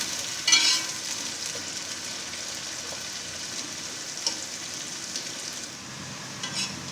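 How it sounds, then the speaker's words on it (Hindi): Onions browning in a pan over medium heat for chana biryani, a soft, steady sizzle of frying with a few faint clinks of stirring, close and fairly quiet. "प्याज को ब्राउन करेंगे। मीडियम आग इसकी होनी चाहिए।"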